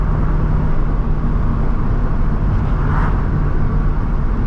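A Corvette C5 Z06 with a rebuilt, upgraded engine pulls hard at roughly half throttle, a loud, steady low roar heard from inside the car without pause.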